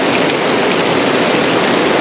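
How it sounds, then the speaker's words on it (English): Heavy rain pouring down on a cold afternoon in the Blue Mountains, a loud, dense and steady hiss of drops with no break and no voices. "now it's 16 degrees and it's pissing rain"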